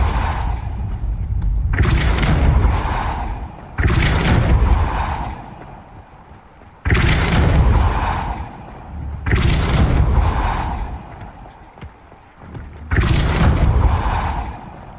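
Levioso and Depulso spells cast in the video game Hogwarts Legacy: six loud, booming magical bursts, each swelling and fading over a couple of seconds, in a steady repeated rhythm with short gaps between them.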